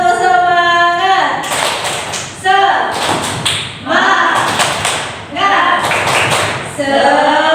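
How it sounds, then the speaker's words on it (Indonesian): A group doing the rhythmic Pramuka spirit clap (tepuk semangat) at an indoor teachers' gathering, with sharp claps bursting in patterned sets while voices chant between them. "Tepuk semangat. Kita tepuk pramuka kembali."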